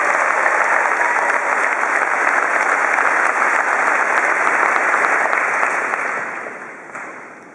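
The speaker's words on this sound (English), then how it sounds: "why don't we give all of our teachers an applause?" A high school graduation audience bursts into sustained applause for their teachers: a dense, even wash of many hands clapping for about six seconds before tapering off and dying away.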